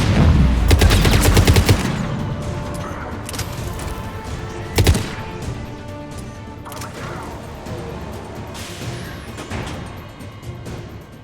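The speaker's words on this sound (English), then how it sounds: "the guns are already picking Cerberus ships out of the sky" Rapid gunfire from defensive guns shooting down Cerberus ships in the Mass Effect 3 video game, a loud dense burst early followed by a sharp boom, then a sustained battle rumble with scattered impacts.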